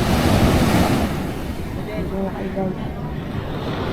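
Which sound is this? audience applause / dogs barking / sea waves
sea waves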